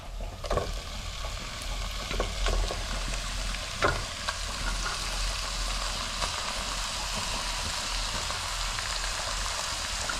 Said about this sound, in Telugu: చికెన్ వేసుకుంటున్నాను 1/2 కేజీ